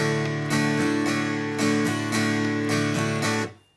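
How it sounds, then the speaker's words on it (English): Solo acoustic guitar strums the chords of a song in a plain, even pattern with no percussive slaps, close and bright, ringing out and stopping at the end. "Without the percussive element, it's going to sound like this."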